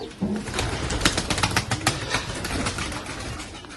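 A newly acquired pair of pet pigeons coo in soft repeated bursts close by, mixed with rustling and brief wing flutters, with no talking.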